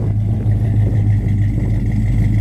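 A Chevelle's engine idles through a dual exhaust with a deep, steady rumble, running loud and close with no clear revving peaks.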